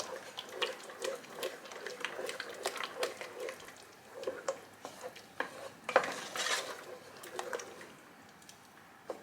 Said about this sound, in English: So mix until all the mozzarella is melted and all other cheese is melted as well.